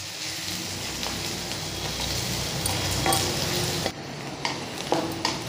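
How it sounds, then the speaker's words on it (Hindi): Chopped onions fry in a pan for browning, a dense continuous sizzle with occasional stirring scrapes and clicks, close and steady with no voices. "प्याज डाल के इसको हम ब्राउन होने तक भूनते हैं।"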